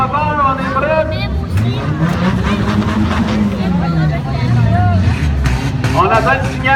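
Demolition derby car engines rumble and rev loudly at a 2017 St-Chrysostome event, a steady low roar with a rising engine swell midway, under crowd babble and an announcer's voice.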